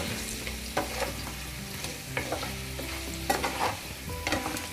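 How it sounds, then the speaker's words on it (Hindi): A spoon stirs spiced potatoes in a pan over a low flame, scraping in an uneven rhythm of soft clatters over a steady, close sizzle, with no talking. "और सब मसालों को अच्छे से आलू में हम कोट कर देंगे"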